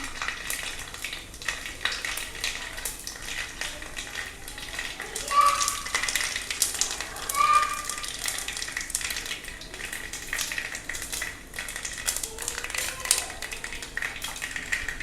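Dried red chillies frying in hot oil, a soft continuous sizzle with light clinks of a utensil against the pan, fairly quiet and close.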